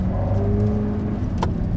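The engine of a New Stratos sports car hums steadily as the car drives on a cold mountain road, a close mid-pitched drone with a brief sharp noise near the end.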